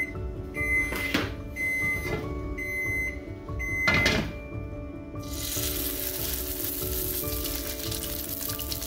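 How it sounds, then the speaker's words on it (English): Salmon pieces laid into a hot pan, several short clatters and bursts of sizzling before a loud, steady hiss of frying takes over and continues to the end. "I'll just lay it in the pan and I'll kind of press down. And that, what that does is that it adheres the salmon to the pan. You hear that nice sizzle"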